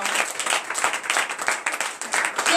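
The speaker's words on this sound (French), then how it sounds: "Donnez de vives acclamations à notre Seigneur." Church congregation at morning prayer applauding and cheering for the Lord, a dense burst of clapping that stays strong for a couple of seconds.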